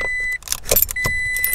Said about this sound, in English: As soon as you pull the keys out of the car